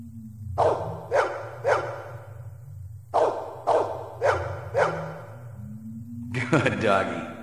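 A dog barks in sharp bursts, mostly in pairs and triplets, close and loud indoors inside an apartment, over a low steady hum, with a short scuffle at the end.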